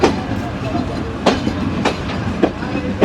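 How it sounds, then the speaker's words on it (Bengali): Rupsha Express train rolling into Kotchandpur railway station, with steady rumbling wheel noise and several sharp clacks over rail joints spaced about every half second to second, close and moderately loud. "আমরা প্রবেশ করছি ঝিনাইদহ জেলার কোটচাঁদপুর রেলওয়ে স্টেশনে"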